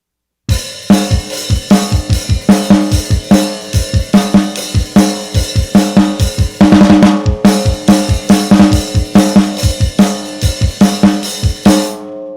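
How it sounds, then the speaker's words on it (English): A full drum beat with punchy kick and snare hits under a constant wash of open hi-hat, steady and loud, with a brief break near the middle. "kick with the open hi-hat, snare with the open hi-hat"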